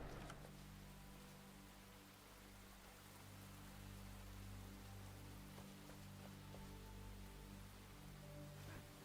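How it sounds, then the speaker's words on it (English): Rain falls in the video game Enshrouded as a soft, steady patter and hiss, quiet and even throughout, with no talking. "I hear the rain, I don't see it."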